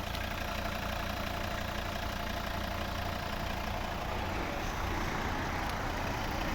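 A 2011 Volvo V60 2.0 D3 diesel with automatic transmission idles steadily, a continuous close engine rumble with a faint knocking texture, unchanging throughout and with no voices over it.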